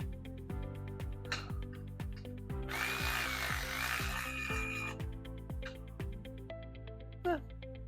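A Ryobi micro lithium cordless ratchet runs in a roughly two-second whirring burst mid-clip, standing out against a steady background of repeated ringing tones.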